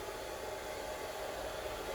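A hair dryer blows a steady, even broadband rush while drying a freshly bathed dog's fur, loud and unbroken with no voices.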